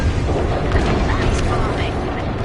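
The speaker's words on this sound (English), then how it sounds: "Nice bombing." Bombing explosions in a video game rumble as a continuous, loud, dense roar of booms, with voices talking over the blasts.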